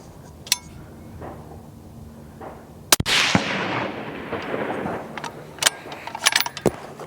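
Rifle shots ring out at a shooting range during powder charge tests: a few sharp cracks, one louder blast with a long decaying echo, then scattered clinks and smaller reports.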